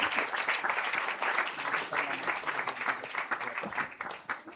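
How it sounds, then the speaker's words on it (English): Sustained audience applause at a community centre's 100th birthday celebration, dense steady clapping throughout at moderate loudness, with no speech over it. "can we please give them another round of applause?"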